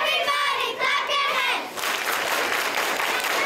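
Children at an elementary school pep rally in Fort Worth clap and shout together. A voice speaks first, and then a broad wash of applause and cheering swells.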